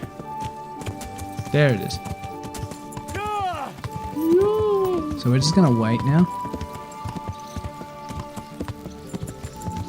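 Hooves of a roan horse clop in Kingdom Come: Deliverance over game ambience, while someone talks over them and a few whinnies and neighs rise and fall near the middle.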